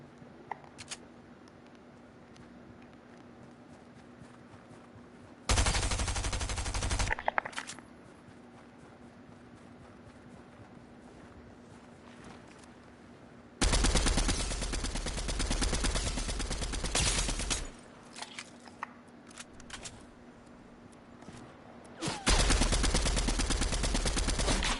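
Video game gunfire in bursts: loud sustained automatic fire in three long stretches with sharp single shots between them, over a quieter background hum.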